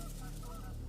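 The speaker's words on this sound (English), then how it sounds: "finally these geese came together." Geese honk repeatedly and loudly during a goose hunt in open country, with overlapping calls from a flock forming a steady chorus across the clip.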